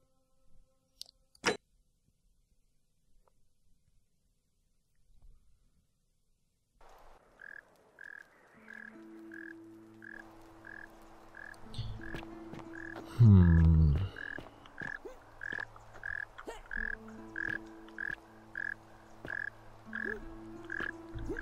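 A loud frog croaks in a steady repeating rhythm in the video game The Forgotten City, over an ambient game soundscape, after a sharp click and a stretch of near-silence.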